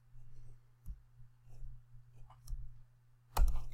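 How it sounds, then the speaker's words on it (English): A computer mouse clicks several times in a quiet room, soft isolated clicks spaced about a second apart, ending with a louder, closer click and rustle. "and we're going to click Embed Item"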